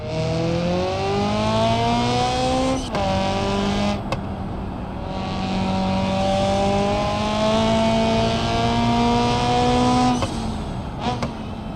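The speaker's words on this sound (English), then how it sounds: "this car's a lot louder, and the 4 cylinders sound a lot raspier now too" A raspy four-cylinder car engine in the video game BeamNG.drive drones steadily, its pitch rising as it revs and dropping sharply at gear shifts, loud and close.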